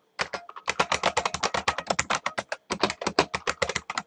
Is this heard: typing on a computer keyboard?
yes